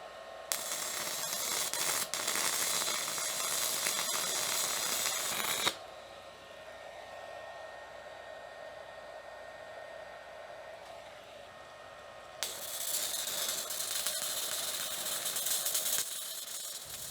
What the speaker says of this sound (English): Let's just see if it welds.